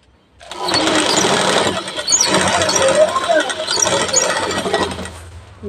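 Sewing machine stitching blouse fabric and lining for a bra-cut blouse, a steady motor whir running nearly continuously with slight speed changes, fairly loud and close.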